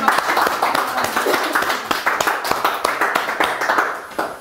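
A church congregation claps in praise with dense, continuous hand claps, and voices mix into the applause throughout.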